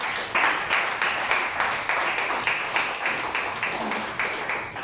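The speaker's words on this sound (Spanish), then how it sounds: "Ven, dale otra ofrenda de palmas al Señor." A church congregation claps together in a steady, regular rhythm, a dense sustained wash of many hands beating in time for several seconds.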